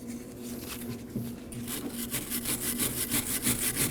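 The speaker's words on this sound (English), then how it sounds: "Now we're gonna use a wire brush to clean both of the surfaces where the tin foils go." A wire brush scrubs the caliper bracket surfaces on the front brakes of a 2011-2016 Kia Optima, producing steady, rhythmic rasping strokes that grow denser and quicker toward the end, close up with no talking.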